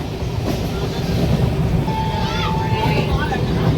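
A passenger train rumbles along steadily, its low, continuous roar filling the scene, with a faint squeal and indistinct voices in the background.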